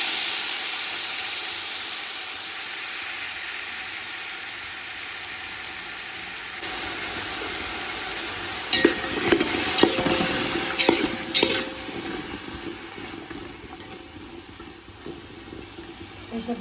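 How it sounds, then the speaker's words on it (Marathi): Potatoes frying in oil, stirred with a utensil: a steady hiss and sizzle, then a burst of scraping and clattering stirring strokes midway that fades back to an even sizzle. "पहिले फक्त बटाटे थोडेसे तेलामध्ये परतून घेऊ"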